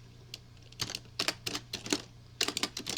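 Irregular bursts of keystrokes on a computer keyboard, close and fairly crisp, clustered in quick runs with short pauses between them over a steady low hum.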